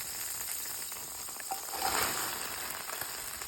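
Onions and garlic sauté in melted butter in a skillet, giving a steady, close crackling sizzle with a brief swell partway through and no talking.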